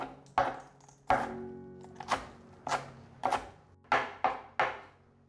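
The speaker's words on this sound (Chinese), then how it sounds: "把香菜切碎" Cilantro chopped with a knife on a cutting board, about ten sharp, close chops at an uneven pace with quiet gaps between them.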